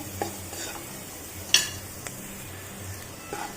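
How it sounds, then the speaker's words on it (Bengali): Vegetables fry with turmeric powder in a pan for sabudana pulao, a steady close sizzle under brisk stirring with a sharp utensil clink partway through. "হলুদ গুঁড়ো খানিক্ষণ ভেজে নেব যতক্ষণ না পর্যন্ত সবজিগুলো ভালোভাবে সিদ্ধ হয়ে যাচ্ছে"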